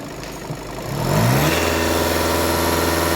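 A car engine rises from a low idle into a loud, sustained rev that holds steady and strong, with a droning mid-pitched roar.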